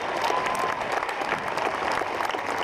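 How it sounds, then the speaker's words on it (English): An audience at the Tri For A Cure 2017 fundraising event breaks into applause, a dense, continuous clatter of clapping that holds steady for the whole stretch. "Round of applause."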